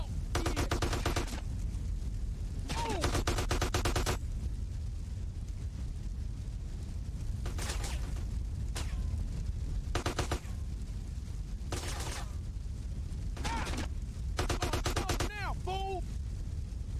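Bursts of automatic gunfire in Grand Theft Auto: San Andreas, the Definitive Edition, rattling in repeated rapid volleys separated by short pauses over a constant rumble, with a voice speaking in between.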